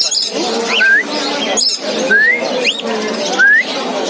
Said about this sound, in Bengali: আজকে হাটে অনেক পাখি এসেছে